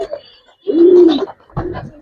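A Laldom high flyer pigeon gives a short, close, throaty coo, a rising-and-falling rumble followed by a second softer burst after a brief pause.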